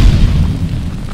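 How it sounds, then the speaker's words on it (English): A loud, deep explosion sound effect booms and rumbles, then fades over about a second. "Like a big old explosion!"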